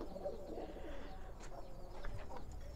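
Giribaz pigeons being packed for delivery, cooing faintly in low soft repeated rolls, with light rustling around them.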